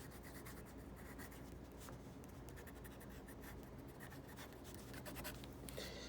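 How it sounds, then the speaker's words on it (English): A pen or marker scratches and rubs steadily across a writing surface during a mathematics lecture on Hardy's inequality. The faint, continuous sound has small strokes and taps, with no speech over it. "Let me write down over here."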